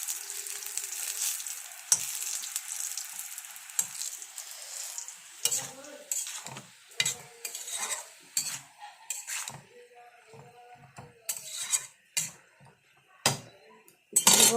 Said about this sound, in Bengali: আমার বড়াগুলো ভাজা হচ্ছে।